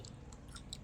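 Someone bites and chews food at close range, a few soft crunchy bites spread across a brief, quiet moment with no talking.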